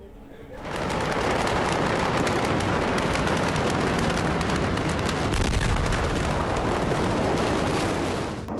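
Blast aftermath from the explosions in Beirut, Lebanon, captured in news footage: a dense, loud roar of rumbling debris and wind-like noise swells in after a quiet start and sustains for several seconds.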